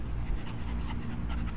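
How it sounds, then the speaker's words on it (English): A dog pants steadily and close by in quick, even breaths, with no talking over it. "Dogs are such good animals. Very smart."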